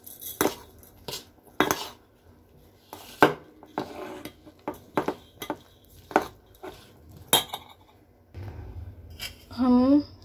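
Buttermilk being stirred into a turmeric-spiced mixture in a pot: a series of sharp spoon-on-metal clinks and scrapes in an uneven rhythm, loud and close, with a voice speaking near the end.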